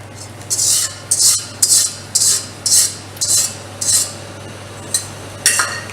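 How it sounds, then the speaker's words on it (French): Wooden spatula scraping and stirring thick pastry cream in a saucepan, a series of rhythmic, regular strokes about every half second, close and clear over a low steady hum. "Faire cuire le tout en mélangeant avec une spatule en bois et non pas avec un fouet afin d'éviter d'incorporer de l'air"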